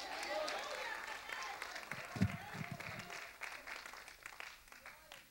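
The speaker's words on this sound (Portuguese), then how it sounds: "Alguém pode dar um aplauso para Jesus?" A church congregation applauds with scattered clapping that fades over a few seconds, with voices audible beneath it.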